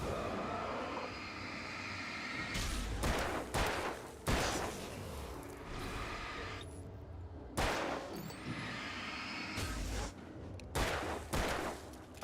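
Gunshots from the Alan Wake video game ring out in several loud separate bursts, with blasts around three, four, eight and eleven seconds over a steady rumbling game background.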